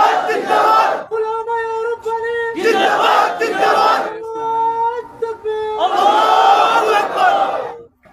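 A large crowd at a sermon by the Palestinian imam of Al-Aqsa mosque roars the takbir, 'Allahu Akbar', in loud, massed bursts. A single leading voice calls between the swells, and the crowd answers in three surging waves.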